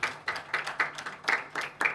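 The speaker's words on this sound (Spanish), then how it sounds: "Un aplauso, por favor." Several pairs of hands clap in a loose, steady rhythm, a small audience at a university literature colloquium applauding at moderate distance, with no talking.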